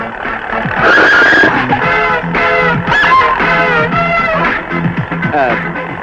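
Car tires squeal in a sharp turn after sudden braking, a loud, wavering screech lasting several seconds with engine rumble underneath, in a Telugu comedy scene.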